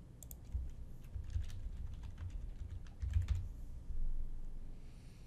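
Keys clatter on a computer keyboard as a username and password are typed in, a close, steady run of light clicks with short pauses and a few denser bursts, no voices.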